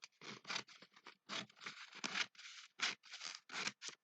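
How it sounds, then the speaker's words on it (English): Scissors snipping through material for a toilet roll craft, a rapid run of crisp, close cuts in short irregular bursts with brief pauses between them. "Okay, let's just cut that down."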